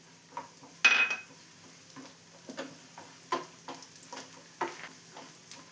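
Cashews and raisins frying in ghee in a pan for coconut-milk payasam: a faint low sizzle underneath a series of sharp metallic clinks and scrapes as a spoon stirs against the pan.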